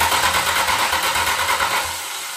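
A 1970 Plymouth Superbird engine running loud and close, a steady throbbing idle with a rapid even pulse that eases slightly toward the end.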